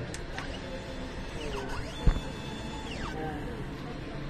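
An inkjet printer runs a print head cleaning cycle: soft mechanical whirring with rising and falling motor sweeps, a couple of clicks and a sharp knock midway, fairly quiet and close.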